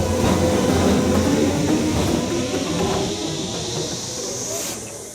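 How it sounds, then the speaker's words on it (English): Steam locomotive on the rail giving off a broad continuous hiss over a low rumble, loud at first and gradually easing, with no voices. "the sight of a loco wreathed in curling steam"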